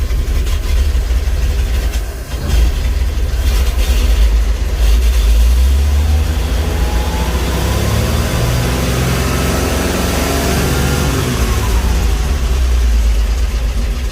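Nissan Patrol with an SD33 diesel engine running after a cold start, its heavy low rumble steady and loud throughout, with the revs climbing and falling in the second half.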